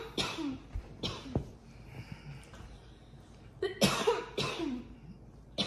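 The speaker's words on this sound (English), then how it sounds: "Ooh, that thing got me to cough, huh?" Several hoarse, harsh coughs break out after smoking, a cluster at the start and another later on, near and fairly quiet in a room, with brief murmured voices between them.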